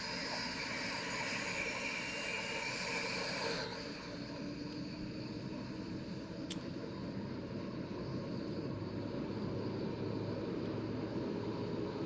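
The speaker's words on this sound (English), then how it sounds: "so you get to hear the CFM 56 boot up" A CFM56 jet engine spools up in a flight simulator game, a steady whining roar with rising turbine tones and a shift in pitch partway through, heard without speech.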